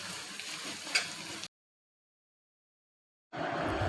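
Onion sizzles gently in a pan for dhaba-style paneer masala, a soft, steady frying hiss that cuts out abruptly in the middle and resumes near the end, with no voices.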